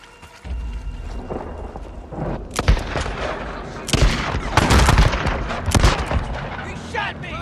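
Gunfire in the video game Days Gone: a loud, close volley of shots with sharp cracks and booming bursts that cluster and repeat over several seconds against a rumbling low background.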